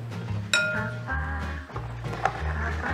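Sugar stirred into a sugar mash (wash) for home fermenting, with a few sharp clinks of a utensil against the container over a low steady rumble, close and moderately loud.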